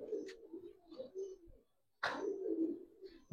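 Giribaz pigeons give soft, low, throaty coos, close by and fairly quiet, in two bursts split by a short silence.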